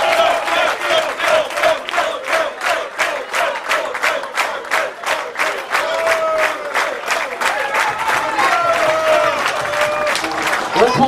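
A crowd at an after-match gathering applauds with loud rhythmic clapping in unison, joined by cheers and shouted voices, swelling toward the end.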